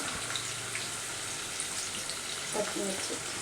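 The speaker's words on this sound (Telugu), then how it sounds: "మిర్చి ఇవి వేగేదాకా కలుపుకుందాం" Carrots, beans and green chillies fry in a pan with onions, giving a soft steady sizzle close by, with faint stirring and a few brief clinks near the end.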